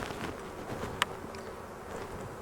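Honey bees buzz around an open hive, a steady close hum of many wings that continues throughout, with one brief sharp click partway through.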